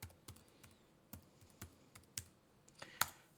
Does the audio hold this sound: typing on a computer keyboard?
yes